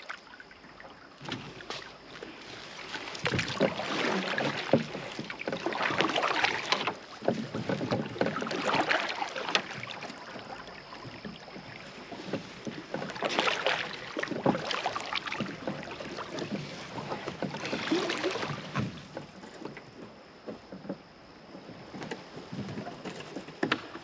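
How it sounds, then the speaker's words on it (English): Paddle strokes and water splashing from a canoe on a lake in Arrowhead and Algonquin provincial parks in fall, rhythmic swells of sloshing every few seconds with steady wind noise throughout. "you got to keep paddling"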